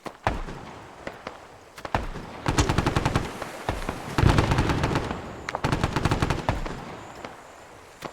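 Gunfire in the video game ArmA 3 crackles in rapid bursts and single sharp shots, loud and fairly close, with repeated volleys across the whole stretch.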